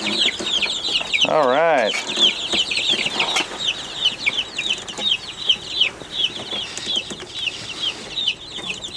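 Chickens clucking and chattering steadily on a snowy day, a busy flock close by, with a brief burst of a person's voice early on and soft speech mixed in.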